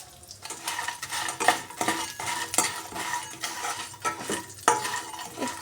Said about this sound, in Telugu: నెయ్యి వేడయ్యాక మనము తీసుకున్న నత్రాలను కూడా వేసేసుకొని దోరగా ఫ్రై చేసుకుందామండి